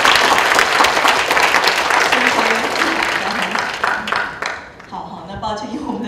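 Loud audience applause at an international conference on indigenous media, dense clapping that gradually thins and fades while a voice starts speaking near the end.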